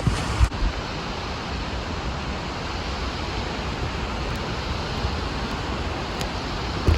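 Water pounding into the pool at the bottom of La Fortuna Waterfall in Costa Rica, a dense, steady, full roar that stays unbroken throughout with no voices.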